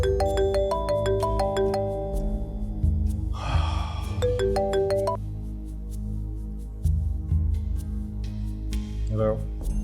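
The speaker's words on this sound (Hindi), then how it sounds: "शाहनवाज को फ़ोन करती हूँ" Phone ringtone tones on an outgoing call in a Pakistani drama scene, a repeating electronic ring pattern with a breathy gasp in the middle, over steady low background music.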